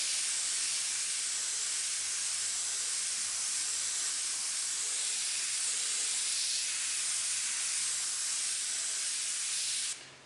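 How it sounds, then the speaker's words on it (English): Airbrush spraying black paint onto sheet metal, a steady airy hiss that runs continuously and fairly close for about ten seconds before cutting off. "It's a little awkward how I'm airbrushing right now"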